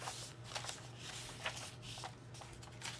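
Paper pages of a no-sew junk journal, including a magazine page, are flipped with soft, quick rustles and flutters, faint and close, over a low steady hum.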